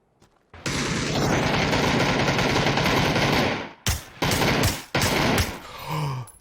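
M16 rifle fire in the PUBG battle royale game: a loud, sustained burst of rapid automatic shots lasting several seconds, then a few shorter chopped bursts close up, ending in a low rumble.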